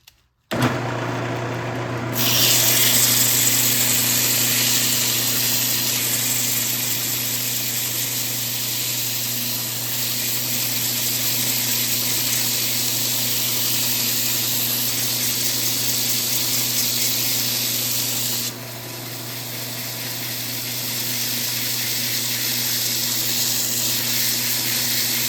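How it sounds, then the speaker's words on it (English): A segmented wooden bowl is sanded with 150 grit sandpaper, giving a steady, continuous close hiss over a low motor hum that runs unbroken for the whole stretch. "I'm ready to sand now. Got some 150 grit."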